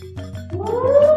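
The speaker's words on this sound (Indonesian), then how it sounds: "Namanya Tommy, dia itu kucing saya" A single drawn-out meow rising in pitch, close and fairly loud, over a low steady hum.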